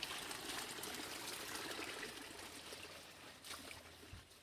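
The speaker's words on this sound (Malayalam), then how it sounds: "ഇത് ചെറിയ വെള്ളച്ചാട്ടം ഇവിടെ കാണാം" Steady splashing water of a small waterfall over a stone, a continuous trickling rush close by with no voices.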